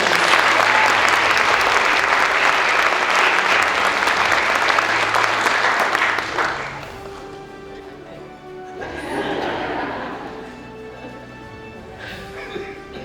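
A sustained round of audience applause fills the hall at a high school visual arts festival awards ceremony, loud and even for about six seconds, then dropping off, with a smaller burst of clapping returning later.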